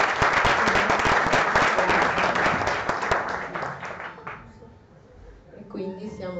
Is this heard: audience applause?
yes